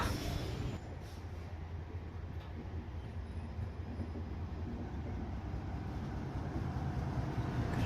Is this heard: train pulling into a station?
yes